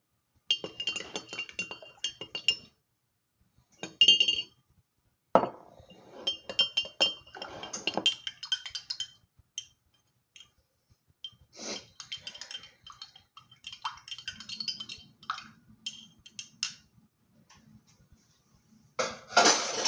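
Teaspoon clinking against a mug while honey is stirred into coffee, with bright, sharp metallic taps that come in scattered bursts between quiet gaps.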